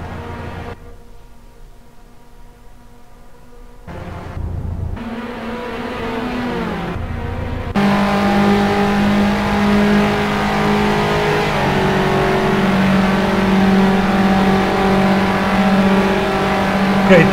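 Simulated 3 Series race cars in a racing video game start the final lap at Mugello, with a steady, loud engine drone whose pitch climbs and shifts as the cars accelerate and change gear.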